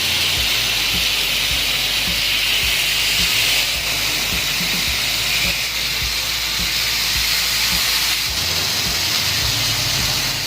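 Fish frying in oil on a hot tawa gives a steady, loud, continuous hiss and sizzle right up close, with faint low crackles underneath and no talking.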